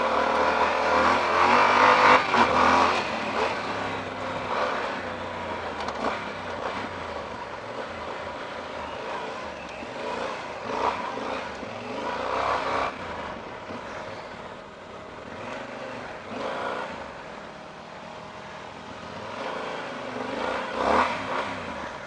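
A 2014 Yamaha XT1200 Super Tenere motorcycle ridden off road, its engine droning and surging steadily with several revving peaks, alongside wind and rough-terrain noise for the whole stretch.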